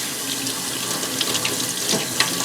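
Tap water runs steadily into a sink as hands are washed, a continuous close splashing hiss with small spatters over about two and a half seconds, with no voices.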